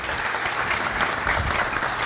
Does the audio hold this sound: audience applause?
yes